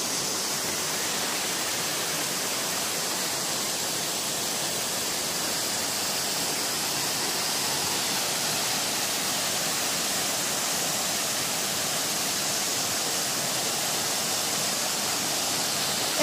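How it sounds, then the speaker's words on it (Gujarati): A waterfall in Barot Valley, surrounded by greenery, gives a steady, dense broadband roar of falling water that stays even and loud throughout, with no voices. "આ વોટરફોલ્સ આવી ગયો છે"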